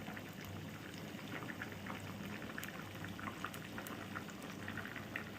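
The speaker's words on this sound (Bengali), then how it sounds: "দেখো দেখতে পাচ্ছ জিরেটা কিন্তু ভাজা ভাজা হচ্ছে" Cumin seeds sizzle in a pan on the stove with a steady, dense crackle and fine popping that runs continuously, close and moderately loud, with no voices.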